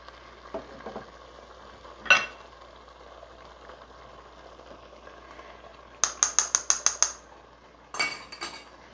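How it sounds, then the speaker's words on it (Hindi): Tomatoes tip into chicken achari gravy frying in a pan, giving a few scattered clinks and a quick burst of rapid utensil clatter against the pot, over a faint background sizzle. "ये हमने 1 कप टोमेटो रखा था, वो भी ऐड कर दिए।"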